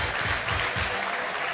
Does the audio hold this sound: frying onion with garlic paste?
no